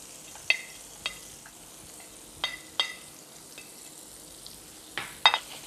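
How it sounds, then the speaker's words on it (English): Vegetables sautéing in butter in a pan, a soft low sizzle beneath occasional sharp clinks and scrapes of a utensil, fairly quiet and close, no talking. "I'm going to make this vegetable little sauté with a little of butter."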